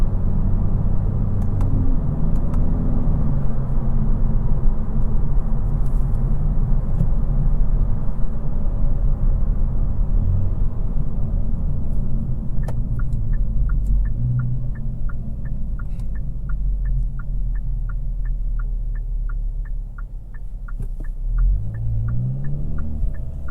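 A 2023 Kia Forte GT2 with a 1.6 engine and dual-clutch transmission drives at slow speeds; a steady low engine hum and road rumble fill the cabin, with a faint repeating tick joining in partway through.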